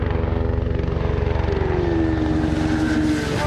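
A helicopter flying alongside a Suzuki GSX-R1000 superbike during a road race, its rotor chop and engine drone loud and constant, with a pitch sweep rising toward the end.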